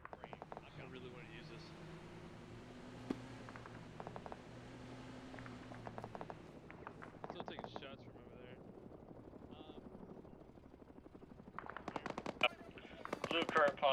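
Rapid bursts of gunfire crackle in a military combat game mission, with repeated distant and nearby volleys and a helicopter-like drone underneath, while players talk over radio throughout.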